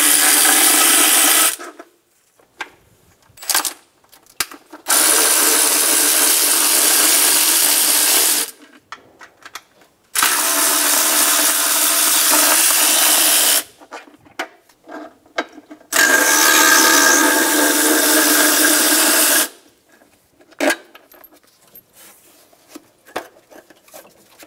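Power tool spinning out the four 10 mm bolts on the right-hand timing cover of a 2000-2006 Toyota Tundra 4.7L V8, in three long loud whirring runs of several seconds each, separated by quieter clicks and handling noise.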